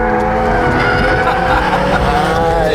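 A 2021 McLaren 720S slides sideways with loud, sustained tire squeal over a strained engine drone, close and continuous throughout, with a faint voice underneath.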